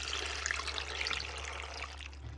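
Water poured over soup ingredients in a pot to cover them, a steady close gush and trickle heard alone without talk.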